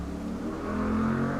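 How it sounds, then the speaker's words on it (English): A loud car revs outside, a steady mid-pitched engine drone that swells slightly over a brief moment, heard alone without talk. "Of course, the loud cars."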